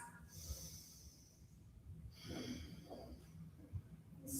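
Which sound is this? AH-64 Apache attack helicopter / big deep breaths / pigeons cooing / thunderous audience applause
big deep breaths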